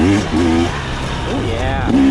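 A 2022 KTM 300 XCW two-stroke dirt bike riding single track, engine pitch rising and falling in short bursts, close and steady with some wind noise.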